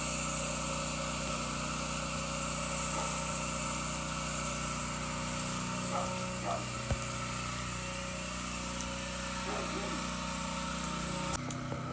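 Pressure washer motor running steadily while rinsing a house and wetting the bushes, a constant mid-level engine hum with faint spray and brief clatter near the end.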